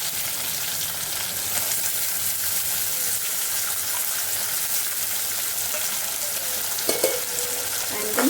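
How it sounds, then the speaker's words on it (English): Potato frying in a pan with chili for sabudana khichadi, a steady close sizzle with brief stirring scrapes near the end and a faint voice underneath. "And then fry it."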